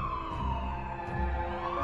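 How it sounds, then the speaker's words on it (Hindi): An ambulance siren sweeps by as a horror-story sound effect, a loud, steady wail that stays up close through the whole short stretch with no talk over it. "तभी अचानक एम्बुलेंस उसे क्रॉस करती है"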